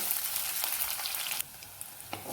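Chopped shallots and slit green chilies sizzle in hot oil with mustard seeds for a fish curry, a steady close frying hiss that drops abruptly softer partway through, with a few faint stirring clicks and no talk.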